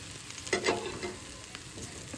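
Marinated pineapple pan-frying in a skillet gives a soft, steady sizzle close by, with a couple of brief stirring scrapes near the start.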